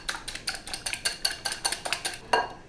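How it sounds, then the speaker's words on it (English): Eggs beaten hard in a bowl with a utensil, a quick run of about a dozen bright clinking strokes in steady rhythm, close and alone, while zucchini flower carbonara is prepared. "now we scramble the eggs really"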